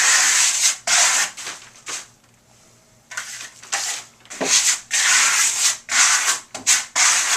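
A trowel spreads Firenzecolor Animamundi cement-like finish coat on a wall, making repeated close scraping, rasping sweeps in uneven strokes separated by short pauses.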